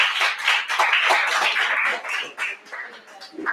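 Hand clapping from a small evening parlor gathering after a reading, a steady patter of claps for about two seconds that then thins into scattered, fading claps.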